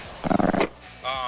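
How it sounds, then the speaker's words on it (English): An angry chihuahua heard from inside a car growls in a loud, rough burst of rapid pulses lasting about half a second, then after a short pause gives a higher, tonal whine or snarl. "Sounds like an extremely angry chihuahua."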